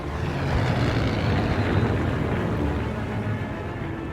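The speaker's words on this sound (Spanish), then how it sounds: "Los famosos bombarderos en picado Stukas atacan las posiciones soviéticas." WWII Stuka dive bombers attacking Soviet positions at the Battle of Kursk roar overhead in a loud, sustained engine drone that swells and holds, alone without speech.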